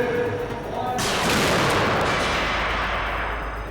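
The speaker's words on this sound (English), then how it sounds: "The device is called the Debris Impact Cannon." The Debris Impact Cannon at Texas Tech University's Wind Science and Engineering Center firing debris: one sharp, loud blast followed by a long rushing roar that slowly fades.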